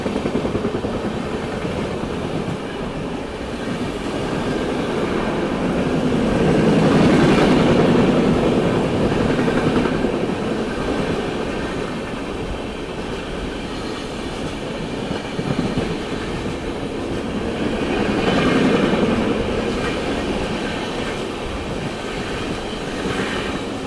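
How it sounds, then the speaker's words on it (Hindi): Train rumble and rail clatter heard from aboard a moving Patna–Delhi AC special train as another train overtakes on a parallel track, with a steady roar swelling twice into louder passing surges. "यहाँ तो बिल्कुल पैरेलल में ये ट्रेन ओवरटेक कर रही है।"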